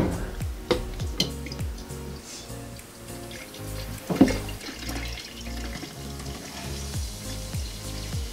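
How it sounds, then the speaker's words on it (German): Energy drink poured to top up a glass already holding beer and tequila, with fizzing and splashing liquid that builds in a few louder pours, heard close and with no talk. "einen Rest mit Energy auffüllen"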